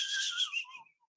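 A person whistling an imitation of a western meadowlark's call, a short clear descending phrase of bright tones, close and fairly soft, alone with no other sound.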